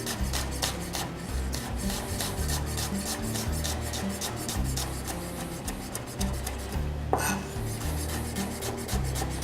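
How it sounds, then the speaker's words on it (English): Rapid, even rhythm of a knife finely slicing a peeled shallot on a cutting board, close and crisp, with steady rasping strokes and one louder knock near the end. "grab a shallot, a peeled shallot, slice it in half, and then nice fine slice"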